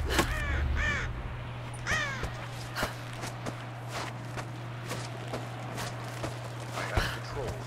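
Crow-like caws and bird calls ring out repeatedly in an outdoor scene of the video game Rise of the Tomb Raider, several harsh calls spread over a steady low ambient hum, with occasional footsteps and faint talk.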